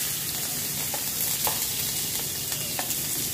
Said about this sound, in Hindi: तेल को गरम होने के बाद उसमें डालूंगी मैं आधा चम्मच जीरा और इसमें मैं डालूंगी 3 मीडियम साइज बारीक कटे हुए प्याज।